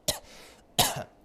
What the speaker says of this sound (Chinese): 最近老咳嗽